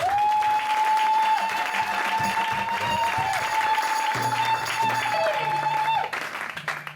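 A congregation at a Sunday church service claps and cheers steadily for several seconds, a dense wash of applause with a sustained tone running beneath it.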